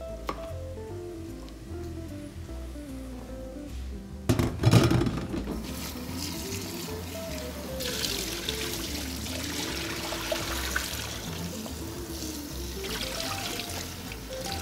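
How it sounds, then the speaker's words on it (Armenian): Dried sorrel greens being rinsed under a running tap, a steady broadband rush of water with a brief louder splash and clatter of handling near the start, continuing close and even without talk. "Այնքան ենք լվանում, մինչև ջուրը թափանցի կանա"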